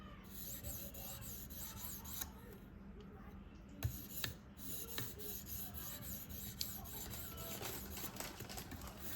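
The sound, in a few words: sharpening a Spyderco Manix 2 knife on a stone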